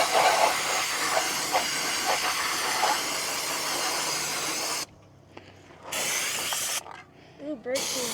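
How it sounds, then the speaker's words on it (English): Brake cleaner hisses from an aerosol can during an oil change on a John Deere 310A backhoe, a steady close spray that cuts off and then returns in short bursts, with brief speech near the end. "Ooh, brake cleaner."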